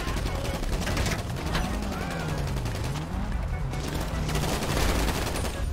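Rapid submachine gun bursts fire through a chaotic GTA V shootout, dense and continuous over a steady drone of game noise, with a voice speaking briefly underneath.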